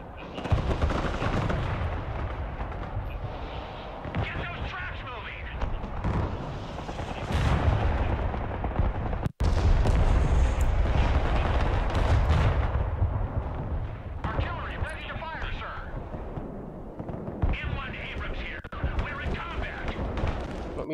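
Tank cannons and artillery in the real-time strategy game Broken Arrow boom in dense, overlapping volleys with rattling gunfire, loud and continuous across the battlefield, with a voice talking faintly underneath.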